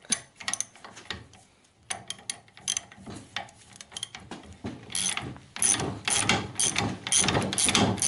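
A ratchet tool loosens a fastener on a train ball joint, giving close, quiet bursts of rapid clicking separated by short pauses, growing busier and denser toward the end.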